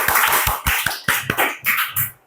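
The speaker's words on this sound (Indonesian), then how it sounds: "tepuk tangan dulu untuk kelompok 1" A small group of students in a classroom gives a brief round of applause for a classmate group, a few uneven, separate claps rather than a dense wash.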